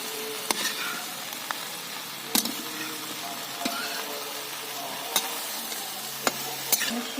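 Bell pepper being stirred into a spiced potato gravy in a frying pan, with a soft continuous sizzle and sharp spoon knocks against the pan every second or so.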